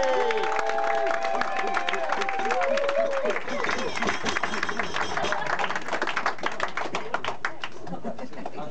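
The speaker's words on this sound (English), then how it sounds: "I'd like everyone to give a quick round of applause for that" Wedding guests break into a dense round of clapping that swells into steady, sustained applause in the reception room, following a few moments of voices and chatter at the start.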